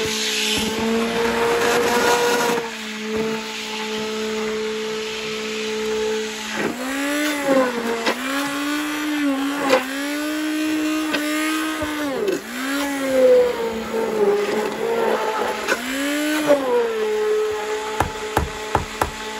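An electric beater whirs while mixing homemade lemon dish soap, its motor pitch rising and dipping as it works through the liquid, a steady loud drone with a few short clicks near the end.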